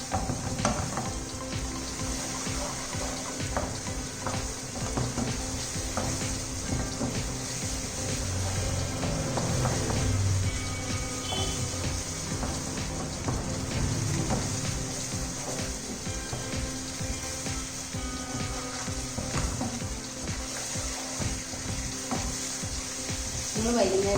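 Masala steadily sizzling in hot oil while it is stirred, a constant close frying hiss with scraping and clinks, and a voice speaks over it now and then.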